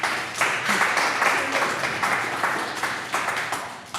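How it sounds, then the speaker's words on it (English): An audience at a comedy open mic applauds comedian Sarah Beth, steady dense clapping that holds for about four seconds at a fairly loud level, with no single voice standing out. "Guys, give it up for Sarah Beth."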